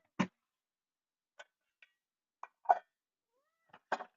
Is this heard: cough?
no